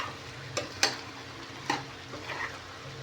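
Chettinadu chicken with onion, tomato, ginger-garlic, turmeric and spice powder cooking uncovered in a pan on high heat: a soft steady sizzle, broken by a few distinct scrapes and clinks of stirring.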